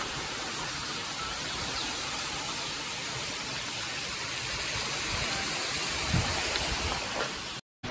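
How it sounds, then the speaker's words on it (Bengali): A monsoon-swollen waterfall at Ghatshila roars as a steady, dense rush of falling water that fills the whole stretch without a break, with no voices over it. "এখান থেকেই কিন্তু আওয়াজ পাওয়া যাচ্ছে ওয়াটারফলের পুরো"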